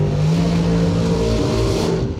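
A dragster at a drag race revs hard and accelerates, a loud, continuous engine roar with a steady tonal drone filling the whole moment, close and dominant.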